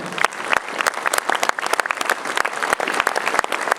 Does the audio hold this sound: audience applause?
yes